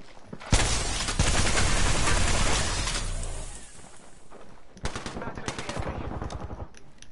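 Rapid automatic gunfire rattles in Apex Legends, loud and close in long bursts with a brief lull before more volleys, and a voice is faintly heard underneath.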